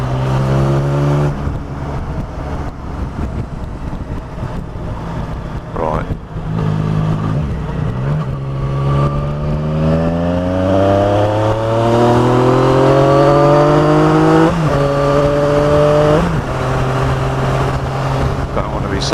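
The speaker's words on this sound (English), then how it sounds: "nice sounds coming from the Black Widow exhaust I fitted last year" A car engine revs up and down repeatedly through a Black Widow aftermarket exhaust, with a deep, throaty exhaust note rising in pitch, steady and fairly close.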